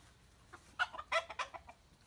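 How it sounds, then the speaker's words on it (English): Chickens cluck on a homestead in a short burst of several clucks and squawks, moderately close and fairly faint, with no talk over them. "Of course, we have chickens and we have quail."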